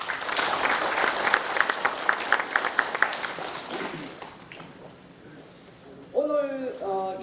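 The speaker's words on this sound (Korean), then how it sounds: "박수 부탁드립니다." Audience applause at the opening ceremony of a farmers' practical training course in Mogok-myeon, Icheon, with a few sharp distinct claps standing out early, the clapping fading after about five seconds before a voice speaks over a microphone.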